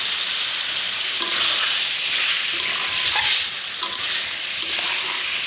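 Soybean curry, seasoned with sauce and salt, sautéed in a pan: a loud, steady sizzle runs throughout, broken by repeated scraping stirs of the spoon, with no voices.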